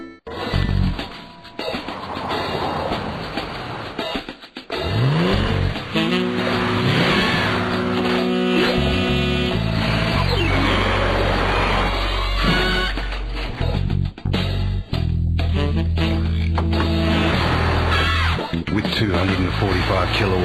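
A Ford Territory Turbo with 145 kW and all-wheel drive revs hard and accelerates loudly and close, with tire squeal and a dense, continuous mix of other sound around the engine.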